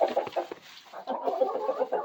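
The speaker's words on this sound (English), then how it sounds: "we've already got chickens coming in to check out the new digs" Several chickens cluck softly and close by in a barn under renovation, a busy run of short clucks and murmurs with a brief pause partway through, no talking.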